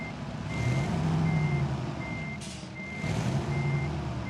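A Kenworth W900 truck in Euro Truck Simulator 2 sounds its reversing alarm: evenly spaced electronic beeps over the low rumble of the idling engine, with a brief hiss of air partway through.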